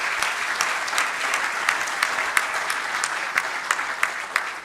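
Attendees at a mining industry talk give a steady, even round of applause, with dense clapping and a few sharper individual claps standing out.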